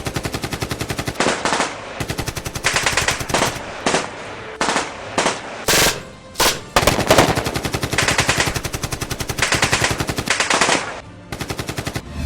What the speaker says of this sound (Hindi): फसादियों की दूसरी ग्रुप ने लशनकोप से अंधाधुन